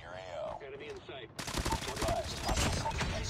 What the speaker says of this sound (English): That's a sentry.